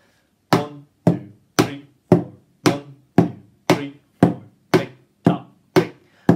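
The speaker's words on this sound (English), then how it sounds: "take a wooden spoon and go one, two, three, four, one, two." Wooden spoon beating pots and a box in a steady even rhythm, about a dozen sharp close hits spaced evenly, alternating slightly deeper and brighter knocks.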